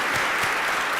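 Sustained applause from a conference audience for a diversity roundtable panel and moderator, dense steady clapping filling the room without a break, no voices standing out.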